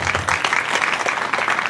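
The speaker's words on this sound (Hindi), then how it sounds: "तालियां" An audience at a Bhagwat Katha gathering at a cow shelter breaks into vigorous applause for a donor. The clapping is loud, dense and continuous, a close crowd clapping without a break.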